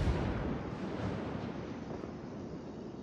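Naval ship guns fire at long range in a video game, heard as a deep, rolling, rumbling roar that starts strongest and slowly fades over a few seconds, with no speech.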